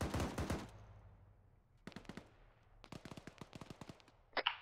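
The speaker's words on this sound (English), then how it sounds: "They're definitely firing at us though." Automatic gunfire rattles in Arma 3 on the Lythium map: a sharp opening burst, then scattered shots and a longer rapid volley, followed by one louder close crack, with quiet gaps between the bursts.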